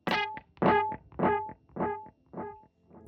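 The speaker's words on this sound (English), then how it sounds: "I have a dotted 1/8 delay, and it'll sound like this." Distorted electric guitar picks a repeating rhythmic figure, each note echoed by a dotted eighth-note delay that fills the spaces in a steady pulsing pattern.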